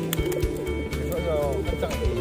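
Merpati kolong and merpati tinggian pigeons coo in a repeated low, pulsing rhythm close by, with voices and other background noise mixed in.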